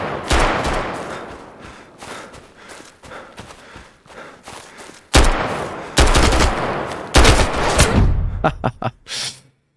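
Loud bursts of gunfire sound in the video game Road to Vostok, including rapid automatic volleys and heavy single shots, alongside footsteps and movement sounds.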